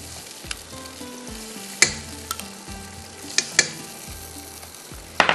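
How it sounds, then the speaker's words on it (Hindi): Masala with tomatoes and yogurt fries in a pot, a soft sizzle broken by several sharp clinks and scrapes of a spoon against the metal at irregular intervals. "इसको थोड़ा सा मैंने भूनना है।"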